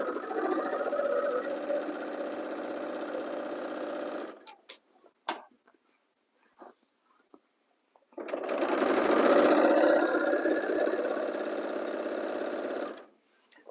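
Serger stitching fabric in two sustained runs of rapid mechanical whirring separated by a quiet pause with a few faint clicks and handling sounds, close and moderately loud.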